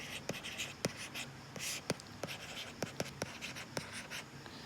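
A pen writes a math solution by hand on paper, close and quiet: rapid scratchy strokes with a dozen sharp ticks as the tip taps down, irregular in rhythm, with no speech over it.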